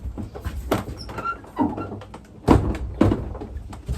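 A door knocks and bangs several times in a breeze, giving irregular thuds and rattles over faint background noise.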